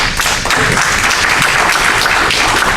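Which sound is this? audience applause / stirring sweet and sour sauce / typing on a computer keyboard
audience applause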